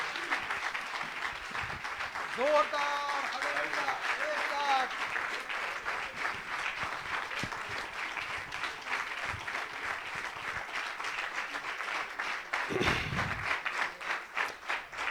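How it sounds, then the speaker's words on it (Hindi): A church congregation at a resurrection night prayer service claps loudly and steadily for about fifteen seconds, a dense continuous applause with brief cheering voices rising over it near the start. "जोरदार तालियां बजाएं।"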